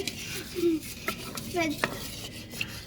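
Chicken rice is stirred in a pan, giving soft scraping and clinking of a utensil against metal, with a few brief sharp ticks and faint sizzling underneath.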